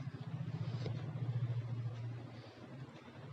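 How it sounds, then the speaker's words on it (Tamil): A mixie grinder whirs close by, blending rice batter with eggs for Kerala kinnathappam, a steady motor drone lasting a few seconds before it winds down. "அதையும் இந்த அரிசி மாவு கூட சேர்த்து திரும்ப ஒரு அடித்து எடுத்துகிட்டு வந்துடலாம் மிக்சியிலேயே."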